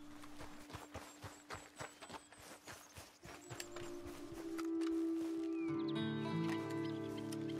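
Horse hooves clop at a steady walking rhythm in Red Dead Redemption 2, the regular hits fading after a few seconds as sustained tonal game music swells up.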